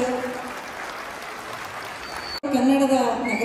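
Loud applause from an audience at a Kannada cultural festival in London, a dense wash of clapping that cuts off briefly and resumes with crowd noise and voices.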